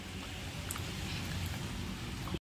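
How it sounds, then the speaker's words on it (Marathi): Heavy rain falls outside at night during a power cut, a dense, steady hiss of downpour that continues without a break and cuts off at the end. "बाहेर खूप असं जोरदार पाऊस चालू आहे."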